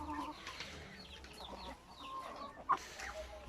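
Chickens cluck softly in the background over a low, steady ambient hum, with one brief sharper call near the end.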